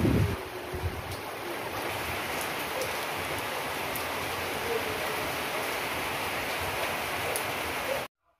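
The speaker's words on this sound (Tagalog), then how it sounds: "Umuulan na naman" Steady rain patters continuously with a broad hiss, occasional soft gusts underneath, and no clear talk.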